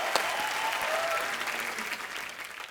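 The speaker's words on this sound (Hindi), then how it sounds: "आप लोग तालियां बजाते रहिए" A studio audience claps steadily through a comedy show taping, a full even burst of applause that slowly tapers toward the end, with a brief voice murmuring underneath.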